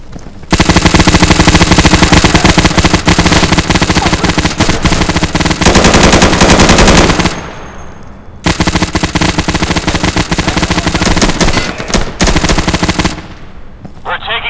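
Sustained automatic gunfire from the video game Insurgency rattles loud and dense for about seven seconds, breaks off briefly, then resumes in long bursts, with a voice faintly underneath.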